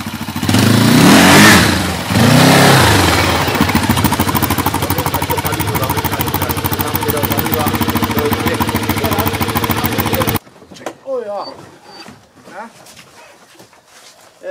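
A second-hand quad bike with a front-mounted engine revs hard and loud for about ten seconds, the roar peaking early, with a dog barking and voices talking over it, then cutting to quieter talk.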